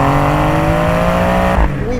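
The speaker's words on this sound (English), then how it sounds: "Bro, I got a friggin' rev limiter." A Porsche 911 Targa engine holds a loud, steady high-rpm drone against the rev limiter, then cuts off abruptly near the end, heard up close.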